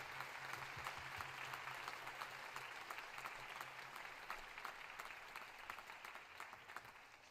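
An audience applauds steadily at a school band winter concert, a continuous clatter of many hands clapping at a distance, fairly quiet and without voices over it.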